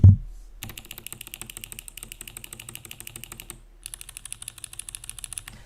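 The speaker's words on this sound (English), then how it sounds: "People do not like clicky switches, which is fair because they're loud." Someone types on a mechanical keyboard with clicky switches, producing rapid, bright, close-up clacking keystrokes. The steady typing pauses briefly, then resumes.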